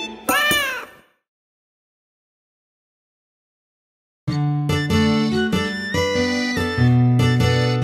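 A cat meows in a children's song, one short rising-and-falling meow, then silence for about three seconds, then bright tuneful instrumental music with no voices.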